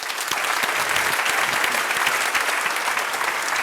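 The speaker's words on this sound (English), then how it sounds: "I would like to ask a big round of applause for Mr." A large lecture-hall audience applauds steadily as economist Thomas Piketty is welcomed, a dense, even roar of many clapping hands from start to end.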